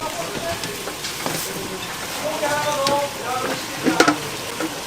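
Flour-coated food goes into a pot of boiling water in a home-style kitchen, giving a steady bubbling, sizzling rush with a few splashes and clinks near the end, under quiet talk.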